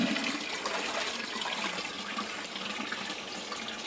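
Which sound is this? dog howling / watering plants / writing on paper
watering plants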